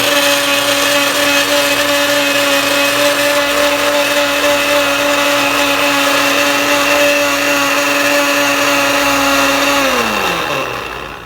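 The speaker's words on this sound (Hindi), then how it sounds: "इसको हम दूध के साथ अच्छे से ब्लेंड कर लेंगे" Garlic and milk whirring in an electric blender for Al Baik-style garlic sauce: a loud, steady motor hum holds near and even for about ten seconds, then winds down as the machine is switched off.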